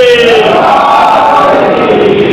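A large crowd at a Shia majlis gathering chants a religious slogan in unison, a loud sustained roar of many voices with a rising and falling pitch.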